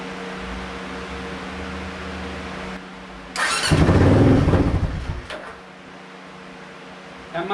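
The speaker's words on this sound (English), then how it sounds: "Will a motorcycle run on 99 proof tequila?" A motorcycle engine running on 99 proof tequila fires and roars loudly for about two seconds, then fades out. A steady fan hum runs underneath before and after the burst.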